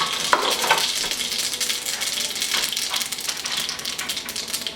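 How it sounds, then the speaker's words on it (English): Mustard seeds temper in hot oil with a loud, dense, continuous sizzle and crackle close by, with occasional sharp pops and faint utensil clinks. "Sizzling of the mustard seeds have started."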